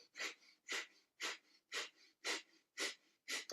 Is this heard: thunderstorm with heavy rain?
no